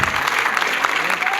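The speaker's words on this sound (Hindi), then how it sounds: "एक बार जोरदार तालियों से सबका स्वागत" Steady, dense audience applause welcoming a guest at a fair in a hall, loud and continuous throughout, with faint voices underneath.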